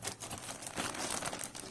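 A plastic takeout bag being handled and crinkled up close, giving a steady run of crackling, rustling crunches with no speech.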